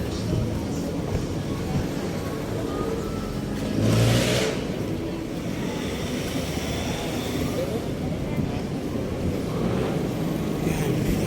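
A motorized tricycle engine hums along a busy street, with its rumble swelling briefly as it passes nearby. Steady traffic noise continues throughout.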